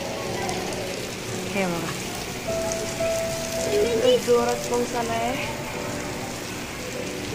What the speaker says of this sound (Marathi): कसला जोरात पाऊस आलाय